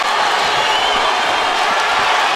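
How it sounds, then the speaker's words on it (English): An arena crowd at a Staples Center boxing match roars in a dense, continuous wash of cheering and applause, loud and unbroken throughout. "The crowd at Staples Center"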